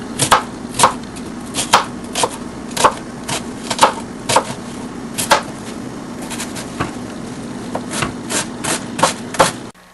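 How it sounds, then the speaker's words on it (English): Knife chopping onion and garlic on a cutting board, a steady series of sharp close taps in bursts, with brief pauses and a constant low kitchen hum underneath. "Now we've chopped up our garlic and our onion"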